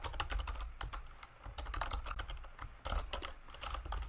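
Rapid, uneven keystrokes on a computer keyboard while a calculated field is typed in Tableau, close and fairly quiet, with brief pauses between bursts.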